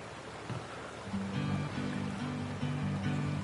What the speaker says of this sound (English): All I hear is the water.